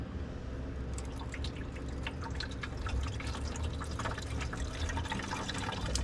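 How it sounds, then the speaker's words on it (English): Windshield washer fluid leaks from a hole in the bottom of a new washer bottle on a dually truck, a continuous patter of small close drips over faint background noise. "I can hear it dripping"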